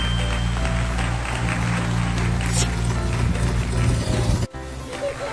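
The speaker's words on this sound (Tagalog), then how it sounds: "Nakapagbuhay na po tayo ng aircon." A repaired air conditioning unit runs with its cover back on, giving a steady mechanical hum with light rattling and clicking, then briefly cutting out near the end before resuming.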